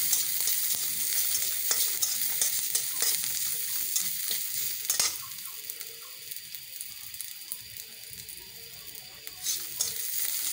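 Garlic cloves frying in hot oil with dried chillies, a continuous bright sizzle with occasional stirring clinks and scrapes in the pan, no talk.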